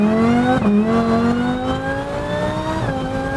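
Lamborghini Huracan engine revving loudly up close, a strong rising engine note that climbs steadily with two brief dips like gear shifts, with no talking.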